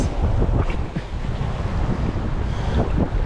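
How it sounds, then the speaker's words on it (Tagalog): Strong wind on a beach at Calaguas Island, Philippines, buffets the microphone with a steady, heavy roar, and waves wash faintly underneath. No one speaks. "Mahangin."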